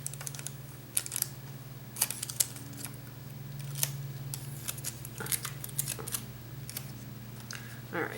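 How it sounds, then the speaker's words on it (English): Strips of tape pulled and peeled from an acrylic painting on canvas, scattered short crackling rips and ticks over a steady low hum, close and fairly quiet. "So I'm trying to remove the tape off of here because it's covering my word flip."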